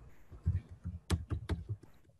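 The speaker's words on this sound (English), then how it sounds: "So I go ahead and start typing what I want to put in there." Keys clatter on a computer keyboard during website building in Dreamweaver, a quick run of close, uneven taps with a few sharper strokes mid-way.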